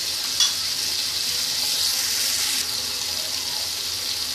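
A spice masala for a sev tamatar sabzi fries in a pan with a dense, continuous hissing sizzle, steady and close, broken by a single brief utensil tap near the start and no speech.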